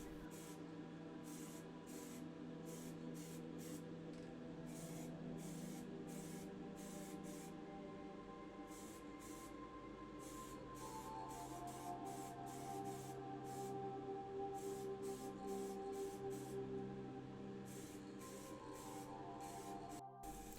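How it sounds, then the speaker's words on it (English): AK Interactive grey primer is sprayed in short repeated bursts onto diecast bus parts, with steady hissing spurts over a low humming background, fairly quiet. "All parts are primed with AK Interactive Grey primer."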